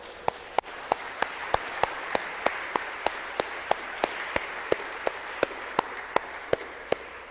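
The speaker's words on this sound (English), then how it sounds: "Should we clap for Jesus and Mary?" An audience at a religious talk claps in unison, a steady rhythmic beat of sharp, evenly spaced claps repeating roughly three times a second.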